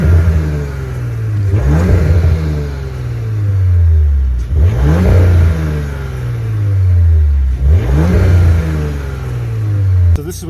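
A B9 Audi engine revs hard three times through an X-pipe exhaust in comfort mode, each throaty rev swelling then falling back to a rumbling idle, loud and close.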